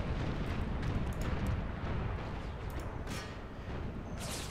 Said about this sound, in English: the artillery barrage should be able to just break these guys without them being shot by any other troops